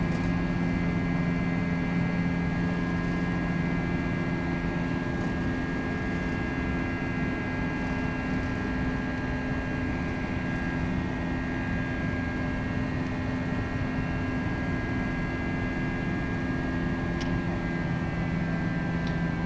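FSLabs A321 engines at climb power in a flight simulator: a loud, steady jet roar with a sustained tonal whine that runs unbroken throughout, with no voices.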